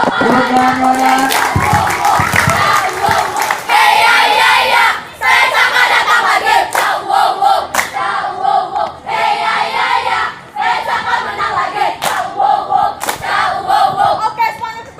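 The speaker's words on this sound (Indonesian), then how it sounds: "Tepuk tangan banget." Junior high school students at a Pramuka scout gathering clap and cheer loudly together, a dense, continuous roar of shouts and rapid hand claps with brief lulls between bursts.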